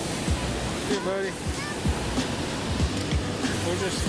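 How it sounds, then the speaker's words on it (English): Fast-moving water rushes in a continuous loud wash while fishing, with a voice speaking briefly over it. "very fast. Moving water."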